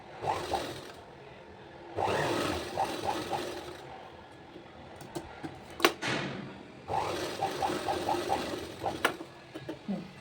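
A sewing machine stitching piping onto a blouse neck: short runs of rapid whirring stitches, close and moderately loud, stopping and starting in three bursts with quiet handling noises and clicks between them.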